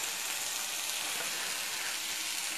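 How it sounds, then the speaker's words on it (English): Tomatoes, garlic and collard greens with rosemary sautéing in a pan give off a steady, even sizzle, a soft continuous hiss close by with no talking over it. "some tomatoes, some garlic, some collards, and what have you. So I'm going to let it saute for a minute."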